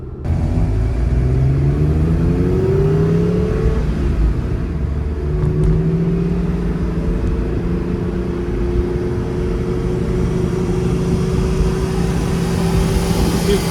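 A vintage Camaro and a supercharged Acura NSX accelerate hard along a road, engines climbing in rising pitch sweeps before settling into a sustained loud rumble and whir, close and continuous.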